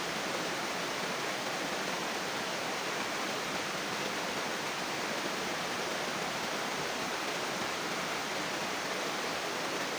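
Waterfall roaring steadily near a damp riverside shelter, a loud unbroken rush of falling water that fills the whole stretch with no talk over it.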